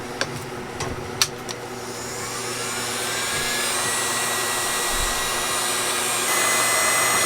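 A heat gun shrinks 3-to-1 adhesive-lined heat shrink tubing on battery cable ends for a Ranger Tug R27 lithium upgrade. A few clicks come first, then a steady blowing whoosh that rises slightly and holds for several seconds.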